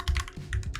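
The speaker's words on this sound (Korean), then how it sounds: "이런 식으로 먼저 타이핑을 하고요" Computer keyboard typing, close and clear: a short burst of several clicky keystrokes in quick, uneven rhythm, with nothing else heard.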